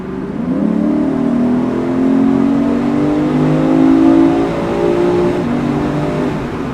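A Lexus IS 500 F Sport accelerates hard through a tunnel, its engine note rising in a loud, smooth drone that swells and eases over several seconds, echoing close by with no talking.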